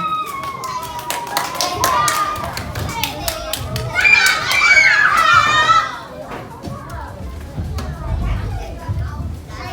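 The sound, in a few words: children applauding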